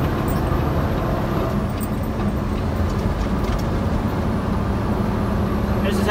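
Loud steady drone of a loaded 18-speed semi truck engine pulling hard through gear shifts, with road rumble and cab rattles throughout and no clear breaks.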